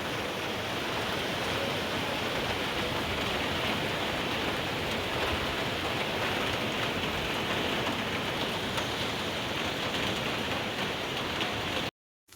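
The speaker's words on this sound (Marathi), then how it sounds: "त्यानंतर पाऊस कंटिन्यू चालू होता" Steady, heavy rain pours continuously with a dense hiss, close and loud, before cutting off abruptly at the very end.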